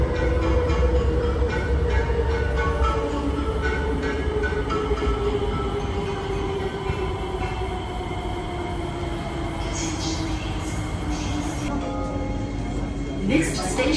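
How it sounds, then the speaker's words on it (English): A Singapore MRT C151B train on the East West Line Changi Airport branch runs steadily with a loud continuous rumble and rising motor whine, wheels clattering beneath, ending with a brief squeal. "Welcome C-151B train on CGL once again."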